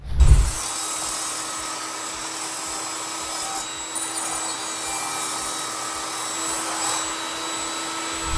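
A table saw with its blade set half an inch high cuts tenon shoulders in wood, guided by a miter gauge. The motor hums steadily under a continuous, whining cut.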